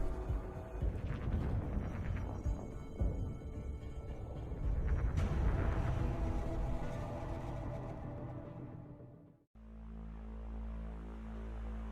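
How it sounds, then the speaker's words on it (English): A video game loading screen: a dense, steady wash of layered electronic music and rumbling tones plays for about nine seconds, then cuts abruptly to a lower, sustained droning hum. "And that noise you can hear is our beautiful loading screen."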